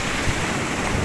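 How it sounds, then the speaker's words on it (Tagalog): Strong surf breaking on a beach during shore casting, a dense continuous roar of waves mixed with heavy wind buffeting the microphone, loud and close, no voices. "Malakas yung alon."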